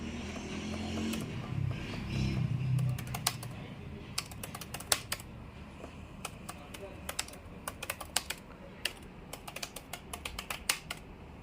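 Rapid typing on the keyboard of an ASUS Vivobook 15 laptop with an Intel Core i5 12th Gen chip: many sharp, close key clicks in an uneven patter. A low murmur of speech runs under the first few seconds.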